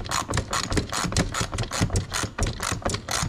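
Ratchet cranking down a tail light mounting on a Can-Am Outlander 850 XMR, a loud close run of rapid rhythmic clicking strokes that continues steadily throughout.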